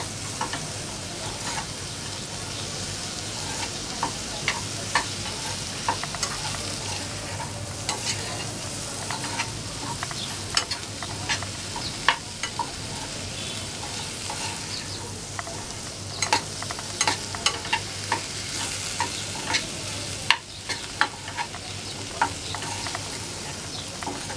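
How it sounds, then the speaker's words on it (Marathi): A pan of chopped capsicum being stirred into gram flour and spices, with a steady soft sizzle under repeated scraping and clicking strokes of a spoon against the pan, close and continuous with no talk. "तिला छान मिक्स करून घ्यायचं आहे सगळ्या मसाल्यांमध्ये"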